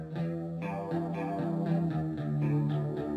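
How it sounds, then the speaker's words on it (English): A bass line plays from a music track in a music production tutorial, a steady run of repeated bass notes with effected tone, moderately quiet and with no talking. "hear that nice bass line"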